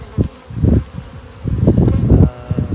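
Honey bees buzz up close in an opened nuc hive, a loud wavering drone that swells and fades in uneven pulses.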